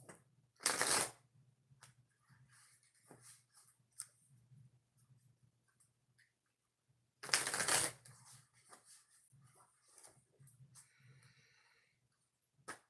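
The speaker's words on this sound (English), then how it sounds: "Two shuffles." Tarot or oracle cards being shuffled twice, each a short, loud riffling burst several seconds apart, with quiet handling noises between them and no talk.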